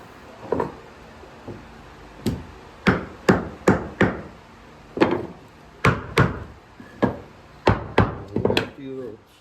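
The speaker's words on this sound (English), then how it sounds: "face nail it with some finish nails" Finish nails are hammered into wood in a series of sharp, close strikes, spaced unevenly at first and then coming in quick clusters, with a few faint voice sounds in between.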